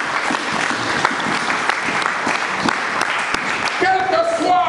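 A church congregation applauds loudly and steadily close by, a dense clatter of many hands that carries on with a few cheering voices rising near the end.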